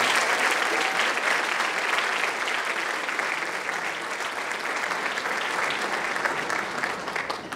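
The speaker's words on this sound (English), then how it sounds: "everybody give these guys a big round of applause" A large crowd at a high school honors night gives a sustained round of applause, a thick continuous roar of clapping that holds steady at full strength throughout.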